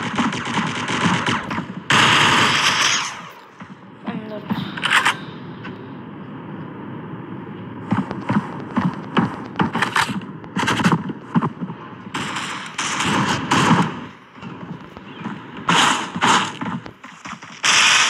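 Gunfire in the mobile shooter Critical Ops comes in repeated loud bursts of rapid automatic shots and single cracks, separated by short quiet gaps, with mechanical weapon handling noises in between.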